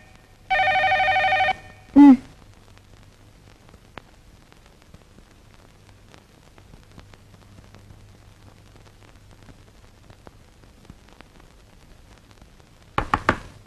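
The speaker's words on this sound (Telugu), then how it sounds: "ఫోన్ మోగుతూనే ఉంది" A telephone gives a single short electronic ring near the start, followed by a brief voice and then a long near-silent stretch, with another sound at the very end.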